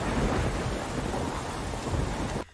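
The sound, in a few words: thunderstorm with rain at night, from the film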